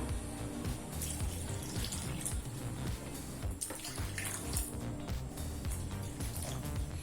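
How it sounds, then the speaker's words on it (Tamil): Water is poured into a pan while making pineapple kesari, a continuous splashing gush that runs steadily for several seconds at close range, with no talk over it. "அடுத்தது 2/2 கப் தண்ணி சேர்த்துக்கலாம்."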